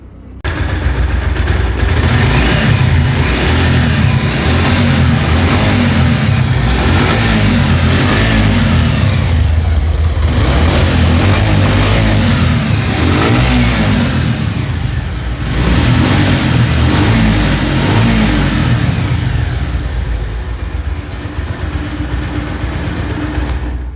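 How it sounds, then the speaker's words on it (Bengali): A 2012 Bajaj Pulsar 150cc motorcycle engine runs close by and loud for the whole stretch, with a steady throb and repeated revs that swell and ease back, no talking over it. "ইঞ্জিনের সাউন্ড শোনাবো"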